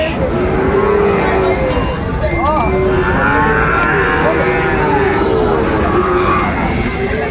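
Sahiwal bull calves at a busy cattle market lowing repeatedly, several overlapping moos rising and falling over a loud, steady crowd din with voices talking throughout.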